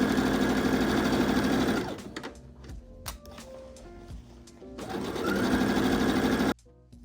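A sewing machine stitches a seam on a patchwork denim trench coat in a fast, loud, steady whir, pauses briefly with small clicks and handling, then runs again before stopping abruptly.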